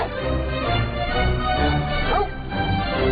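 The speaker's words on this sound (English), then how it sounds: "Right, let the dogs attack." Several dogs bark, yip and whimper in a dense, agitated chorus as they set upon a farmer, loud and continuous throughout with a brief high whine near the end.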